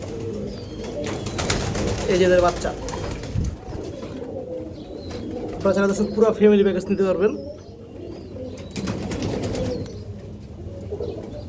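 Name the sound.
green-necked pigeons cooing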